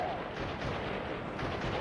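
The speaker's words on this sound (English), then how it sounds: "Now we're in a big old gunfight." Gunfight in the video game GUN, a dense, continuous wash of loud gunfire with no distinct gaps between shots, close and filling the whole short stretch.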